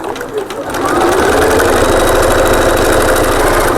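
Sewing machine running a continuous stay stitch across the layered fabric pieces of a double cup holder, a loud, steady motor whir with rapid needle rattle after a brief start.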